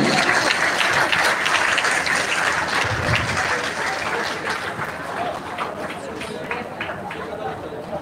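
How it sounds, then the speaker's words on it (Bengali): Sustained applause from an audience at a Tripura government event in Belbari's Govinda Bhavan, loud and dense throughout with background crowd chatter, easing slightly toward the end. "আজকে করতালি থামবে না আশা করি"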